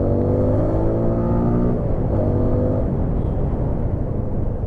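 A 2018 TVS Apache RTR 160 4V, a 160cc motorcycle, drones loudly while ridden through traffic, its engine pitch climbing and then shifting, with steady wind and road noise throughout.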